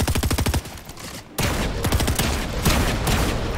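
Rapid in-game gunfire from many players in a competitive shooter, starting with a dense burst of regularly spaced shots, a brief gap, then continued heavy, overlapping fire at close to mid range.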